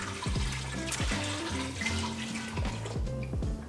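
Water pours from a tap into a pot for soup stock in a home kitchen, a steady splashing rush with gurgling, ringing tones as the level rises, no talking.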